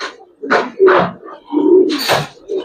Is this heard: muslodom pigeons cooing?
yes